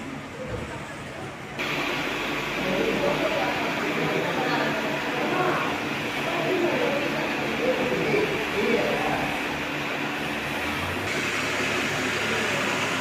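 Auroville Express train travelling from Puducherry to Chennai Egmore, a steady rumbling hiss of the moving train, with a person talking over it throughout.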